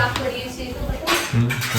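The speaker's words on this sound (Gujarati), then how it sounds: "આ બાજુ મમ્મી જો અમારે વાસણ ધોવે છે." A mother washes dishes after a family meal at home, and metal pots, pans and cutlery clink and clatter in quick bursts under ongoing chatter in the room.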